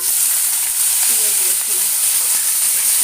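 Whole cumin seeds hit hot oil for a Bengali banana curry, producing a loud, close, continuous sizzle with a faint stirring scrape.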